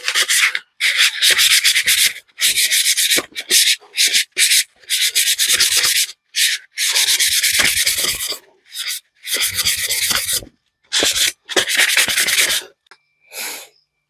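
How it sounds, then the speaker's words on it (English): Copper pipes are hand sanded with 600-grit wet and dry sandpaper, close, loud rasping strokes in quick, irregular bursts separated by brief pauses, with no speech. "I'm now just going to clean up these copper pipes with a bit of wet and dry."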